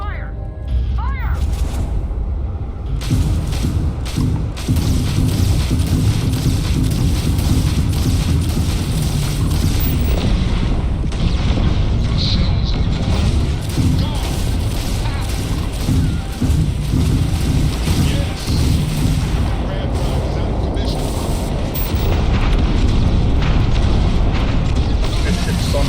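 Sustained gunfire and booming explosions in the video game Starfield, a dense, loud barrage of thuds and blasts filling the whole stretch with little pause, while voices talk over the combat.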